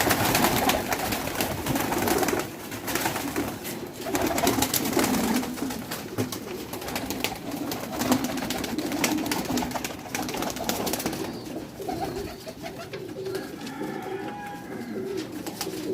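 Soft, low cooing of pigeons repeating throughout, several birds close by, with a rustling, hissy background and occasional fluttering sounds.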